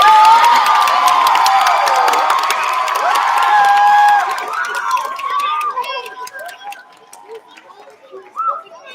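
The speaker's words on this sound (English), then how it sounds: "So if you can give them one more round of applause for that one." School assembly audience at a Veterans Day event claps and cheers loudly, with children whooping and shouting; the roar stays strong for about four seconds, then thins into scattered claps and voices.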